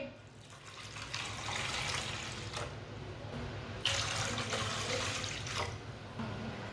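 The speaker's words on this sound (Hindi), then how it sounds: "दो गिलास पानी डालेंगे।" Two glasses of water run and splash steadily into a pot of washed masoor dal for several seconds, a continuous broadband pour with slight changes in intensity, no voices.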